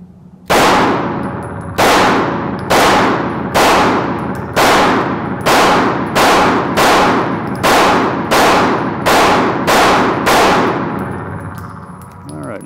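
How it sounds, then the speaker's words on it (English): A Smith & Wesson M&P9 Metal pistol fires a fast string of about twelve loud shots at a shooting range, evenly spaced with ringing decay after each one, then a fading tail. "Pretty rapid, that's rapid fire, I would say."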